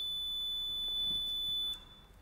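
A wall-integrated motion detector in an exhibition space triggers a shrill, steady electronic alarm tone that sounds continuously, then cuts off near the end, leaving quieter room noise.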